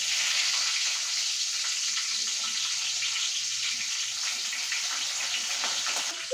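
Curry leaves sizzle in hot oil with cumin and mustard seeds, a strong continuous hissing fry close by, with faint crackles scattered through and no voices.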